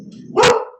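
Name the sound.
dog barking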